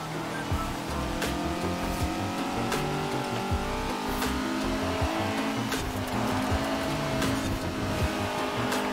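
A Honda S2000 races around Holyrood Park Circuit in the video game Forza Horizon 4, its engine droning steadily at high revs with gear shifts, continuous and close, without talk.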